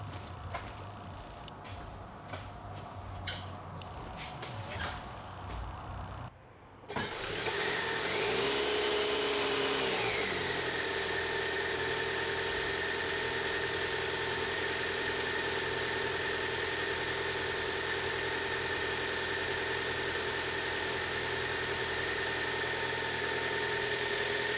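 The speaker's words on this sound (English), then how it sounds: "Compressor's humming." A 2023 Ford Maverick with its engine running and the air conditioning switched on, the A/C compressor humming steadily under the motor; a brief dip, then a loud, sustained mechanical drone with a settling pitch sweep, no talk.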